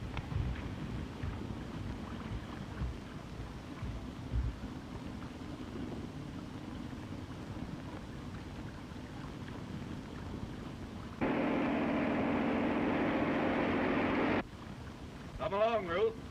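Boat under way on open water, a constant low wind-and-engine rumble that swells louder for a few seconds near the end, with people talking over it.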